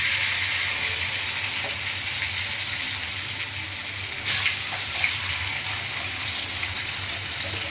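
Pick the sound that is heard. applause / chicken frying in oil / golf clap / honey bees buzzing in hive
chicken frying in oil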